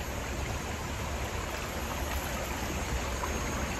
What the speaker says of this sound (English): Our natural Malaysia waterfall in Perak, Gua Tempurung.